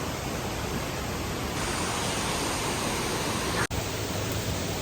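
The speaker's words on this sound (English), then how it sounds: "in case you hear the sound of like a waterfall and stuff in the background, it's because I'm staying right by a waterfall" A waterfall rushes close by as a steady, broad wash of noise, loud and unbroken throughout, with a brief dropout near the end.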